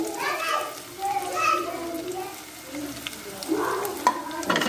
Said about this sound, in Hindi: देखिए ऑयल गर्म हो गया, मैं इसके अंदर प्याज ऐड कर रही हूँ।